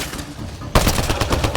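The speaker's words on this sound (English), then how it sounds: "Just keep firing, we can do this!" Gunfire in Mass Effect Andromeda, with rapid automatic bursts breaking out sharply after a brief rumbling lead-in, then continuing loud and dense, mixed with other combat noise.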